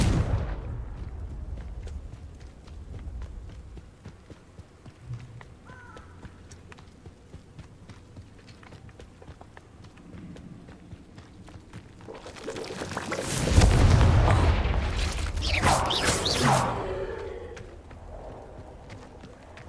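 Confringo explosion spell cast in the video game Hogwarts Legacy, a loud burst of blasting and crackling that swells and fades over a few seconds after quieter game sounds and scattered clicks.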